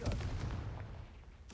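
A Confringo fire spell in Hogwarts Legacy bursts with a dense, roaring blast that fills the moment at once, then settles into a rumbling decay before a second rush of sound at the very end.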